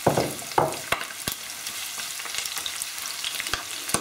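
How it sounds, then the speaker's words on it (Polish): Onion fries together with bacon in a pan, a continuous close sizzle broken by sharp clacks and scrapes of a spatula stirring, with no talking. "chwilkę będę podsmażała, jak nam się cebula zeszkli"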